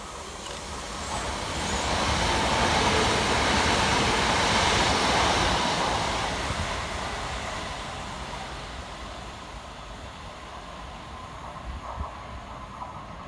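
A passenger train, class 375 unit 375818, rumbles through Anerley station during a storm, swelling to a broad roar over a few seconds and then fading gradually, with clattering wheels beneath.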